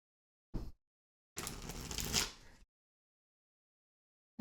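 Tarot cards being shuffled: a brief riffle, then a longer papery shuffle lasting about a second, close and fairly quiet with silence around it.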